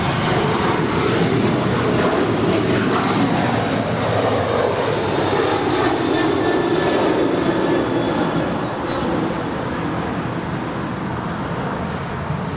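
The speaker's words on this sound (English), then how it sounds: "This is Alaska 290 departing to Guadalajara. It's a 737-900." An Alaska Airlines Boeing 737-900 jet departs Los Angeles LAX bound for Guadalajara, its engines a loud, steady broadband roar that holds throughout with a faint high whine on top.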